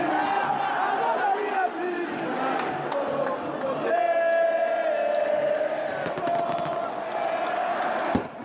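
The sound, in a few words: football supporters cheering at half-time in the stadium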